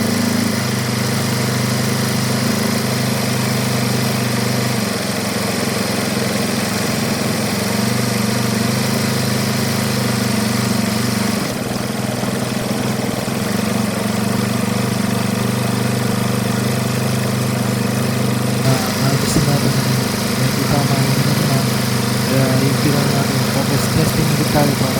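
A small engine idles steadily during idle adjustment, with a constant mid-pitched drone and vibration and slight shifts in tone partway through, while someone talks over it.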